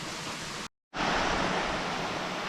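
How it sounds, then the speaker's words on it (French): Steady rushing water noise from small waterfalls in Morocco's Ourika Valley, broad and continuous, with a brief total silence cut near the start before the roar resumes. "Ça doit être quelques-unes des cascades"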